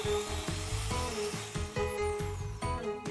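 A saw cutting through a wooden porch post, loud rhythmic strokes with regular bursts about every half second, close up and without talk.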